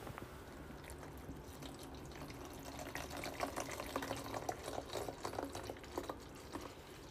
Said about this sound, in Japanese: 今からあのルイボスティー作るんで水の音します。